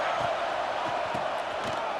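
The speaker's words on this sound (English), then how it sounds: "Neyland Stadium alive, a cauldron of orange noise on 3rd down" Stadium crowd roaring at Neyland Stadium in NCAA 26 college football, a dense, continuous wall of noise from a packed home crowd on third down, with scattered louder shouts within it.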